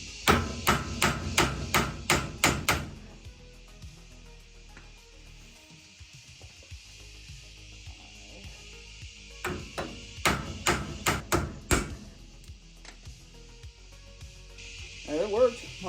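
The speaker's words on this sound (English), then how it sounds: "This is the hammer I got." Hammer blows ring out on car parts during a 1968 Ford Mustang power steering upgrade: a fast run of sharp metallic strikes, then quiet rummaging, then another burst of hits, close and loud.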